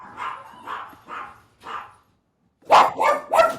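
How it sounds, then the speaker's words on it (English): A pet dog barks at home, four muffled, evenly spaced barks at a distance followed by a pause and then three louder, sharper barks close by. "Oh, now my dog's barking."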